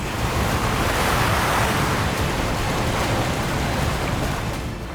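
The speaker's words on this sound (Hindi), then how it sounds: "लहरें तेज हो गई।" Strong sea waves off the Karnataka coast churn as the weather turns, a loud, continuous surf roar mixed with wind buffeting, steady and close for the whole stretch.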